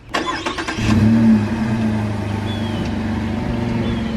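A lifted Chevrolet Colorado pickup truck pulls away from a shop, its engine revving up sharply then settling into a steady mid-pitched drone as it drives off, fairly close and alone without talk.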